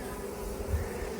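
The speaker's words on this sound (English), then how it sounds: "Got some honeybees working this patch of primrose, evening primrose." Honeybees forage over a patch of blooming evening primrose, giving a soft, steady buzzing hum that holds for just over a second with no voices.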